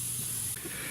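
Brake cleaner sprayed from an aerosol can onto the engine of a 2008 Pontiac Torrent with a 3.4L V6 during head gasket work: a steady close hiss running the whole moment, with a brief dip near the middle.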